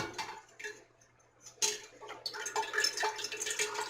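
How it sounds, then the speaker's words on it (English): Liquid from steeped dandelion petals pours through a mesh strainer lined with cheesecloth into a pot, giving a continuous splashing trickle with a few louder surges. It is close and steady, with no voices. "drain my dandelion petals"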